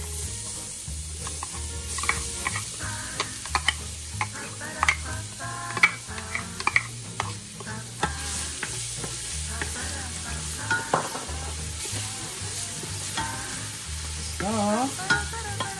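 Garlic sizzles and fries in a pan for Filipino callos, a steady crackling bed broken by frequent close stirring and scraping of a utensil against the pan, with no talking.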